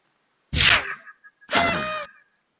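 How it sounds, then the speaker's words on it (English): Two separate blasts from the World of Cars video game: a sharp laser zap, then a slightly longer, brighter party blast after a short gap. Both are fairly loud and heard alone. "That was the sound of a laser blast. Laser was the first one, party blast was the second one"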